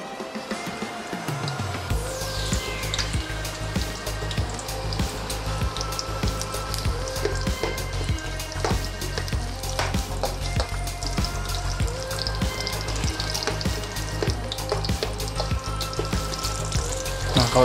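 Onion sautés in oil in a pan while cooking sukiyaki, giving a steady, close, crackling sizzle that rises quickly and continues alone without talk.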